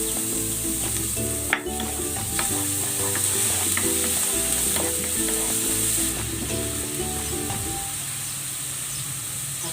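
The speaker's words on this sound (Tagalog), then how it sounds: "Gigisa ko na tong bawang." Garlic sautés in a pan with a bright, constant sizzle and hiss, broken by repeated light scraping and clinks of stirring, loud and close, easing slightly toward the end with no speech.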